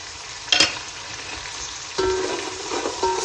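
Tomato chutney sizzles in a pan on a low flame as a spoon stirs it, giving soft frying crackle with two short scraping bursts of stirring.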